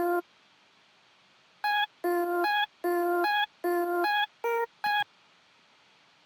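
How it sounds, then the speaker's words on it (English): Isolated vocal chop cut from an acapella for a future bass track: short clipped tonal vocal bursts in a choppy rhythm, about seven hits after a silent opening, played alone and clean. "Just took the acapella from it, and alone, it sounds like this."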